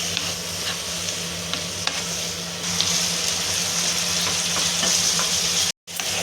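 Tomatoes and chili powder fry in a pan while being stirred, a continuous close sizzle with scraping spoon strokes, louder in the second half and broken by a brief dropout near the end.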